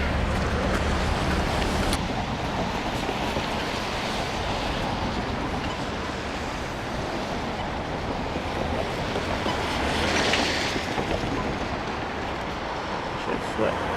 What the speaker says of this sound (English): There's the freaking train.